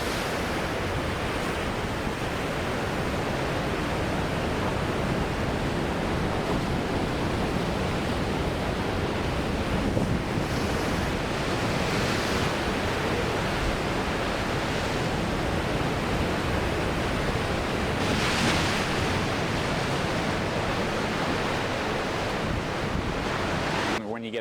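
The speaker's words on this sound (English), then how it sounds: "When you get a big wave like this, so I've got to be careful of that." Big ocean waves surge and rush through a narrow rock gulch, a steady, loud, broadband roar with a few stronger swells, wind buffeting the microphone and no talking.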